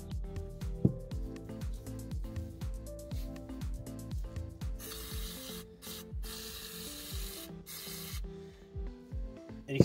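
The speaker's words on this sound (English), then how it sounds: "I'm just going to rinse it out with carb cleaner completely" Carb cleaner sprays hard onto a Nissan 3.5L V6 throttle body, giving a close, loud broadband hiss in several bursts with brief pauses, over an ongoing scraping rub.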